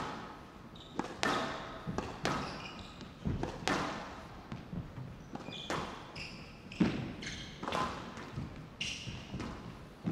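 A squash ball struck hard in a women's professional World Series match, sharp cracks of racquet and wall arriving in a fast irregular rally with squeaking shoes and a low crowd murmur behind.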